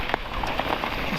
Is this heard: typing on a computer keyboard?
no